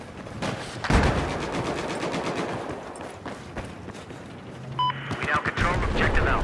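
Rapid machine gun fire in a Battlefield first-person shooter video game, bursts of close, sharp shots rattling steadily over several seconds amid battle noise, with voices talking.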